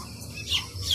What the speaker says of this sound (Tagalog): So ito na po yung inakay natin mga kalapati.